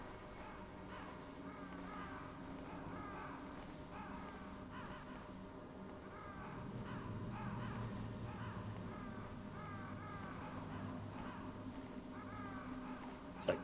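Crows caw in the Metal Gear Solid PC video game, a steady run of faint, repeated calls over a low game background hum.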